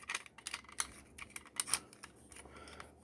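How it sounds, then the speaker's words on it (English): Parts of a Transformers Studio Series 86 Dinobot Grimlock toy folded over on internal hinges, giving a quick series of light, close plastic clicks and ratchets, quiet and with no talking. "using these internal hinges, we're going to fold everything over"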